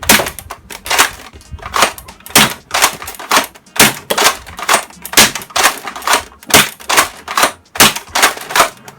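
Toy foam dart blaster with an Artifact breech, repeatedly chambered and fired: a steady run of sharp mechanical clacks and snaps at a brisk, fairly regular rhythm, close and loud, with no talking.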